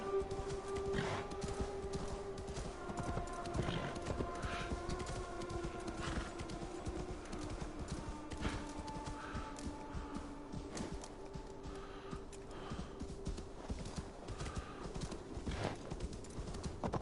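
Horse hooves in Assassin's Creed Valhalla clip-clop in a steady, continuous walking rhythm for a long stretch, moderately loud, over faint ambient game music and occasional soft snorts.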